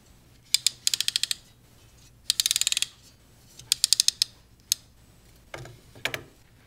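Adjustable laptop stand ratcheting through its hinge: quick bursts of crisp close clicks in runs of four to eight, separated by pauses, ending with a couple of softer thuds.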